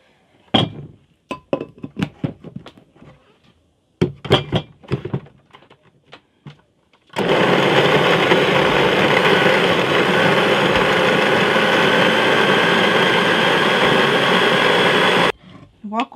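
After some clinks and knocks of kitchen items, a blender with soaked chile and water starts and runs loud and steady for about eight seconds before stopping abruptly.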